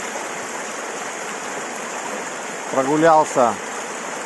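Water rushes over a step-like fall on the Ukhta river in the town of Ukhta, a steady close roar of flowing water throughout, with someone speaking briefly near the end.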